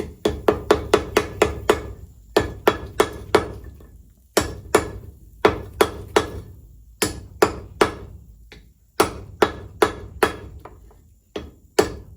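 A blacksmith hammers a forge weld on a fluxed tong rein, ringing metal blows landing in quick rhythmic bursts of several strikes each, loud and close, with brief pauses between groups.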